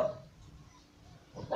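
A dog gives a couple of short barks, one at the start and one at the end, moderately close, with quiet room noise between.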